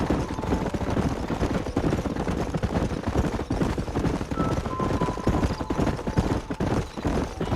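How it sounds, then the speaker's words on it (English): Rapid hoofbeats of a herd of galloping horses in a Western video game, dense continuous clip-clop under occasional shouts and faint gunfire-like cracks. "There's the horses!"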